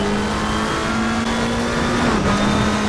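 McLaren 720S GT3 race car engine in Assetto Corsa Competizione, a steady loud drone with a sustained tonal whine that dips near the end as the car lifts off and clips the curbs, with no talk.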